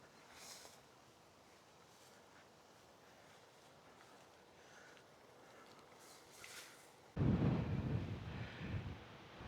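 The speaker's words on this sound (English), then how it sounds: "It's windy up here, it's windy down there." A low, rushing wind rumbles softly at a distance on a hiking trail at English Harbour, Antigua, then a sudden loud buffeting gust hits the microphone near the end.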